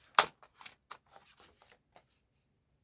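Scissors cut paper into a DIY envelope in a few crisp snips, one sharp cut followed by several softer, quieter snips spaced unevenly across a few seconds, with no talking.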